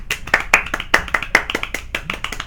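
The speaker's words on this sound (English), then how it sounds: "the GG round of applause for everyone who does stuff with Linux" Sharp, distinct hand claps from a small group ring out close and loud, an uneven burst of individual claps rather than a full crowd, with no talking over them.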